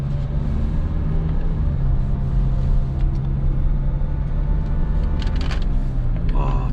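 A used Kia Carnival Limousine on a test drive, with a steady low engine and road rumble running throughout at an even level and a brief brighter noise near the end.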